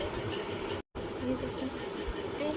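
A steady rumbling roar of a train going by nearby, continuous and fairly loud, with a brief cut of silence partway through.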